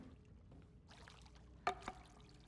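Inside Silent Hill f, a small water feature gives off a soft, quiet trickle and pour, with a couple of brighter splashing drips standing out near the end against a low ambient hum.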